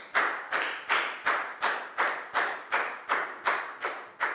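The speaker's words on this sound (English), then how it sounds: "High five and a big round of applause for Chew" A class claps in unison for a student. About ten crisp claps are evenly spaced in a steady rhythm, close and clear, with no talking.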